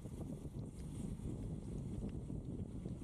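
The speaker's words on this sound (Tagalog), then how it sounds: "Sarap yung hangin kahit malakas." Strong wind buffets the microphone during a cold-weather bike ride, a steady low roaring rush that fills the whole stretch without a break and with no voices.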